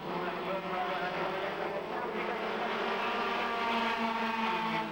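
Race cars at a 1990 British motorsport event braking hard at the limit and racing, with a loud, continuous engine roar under a commentator's voice.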